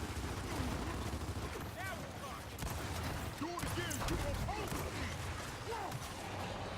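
Rapid gunfire from the Gears of War 4 video game crackles in steady bursts over a dense, loud battle din, with a voice speaking faintly beneath the shooting.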